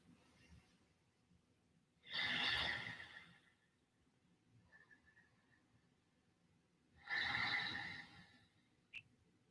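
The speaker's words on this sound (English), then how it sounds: "Breathing here for 5." Two long, audible breaths taken close up during a shoulder-focused yoga pose, each a soft airy exhale a few seconds long, separated by quiet pauses, with no talking.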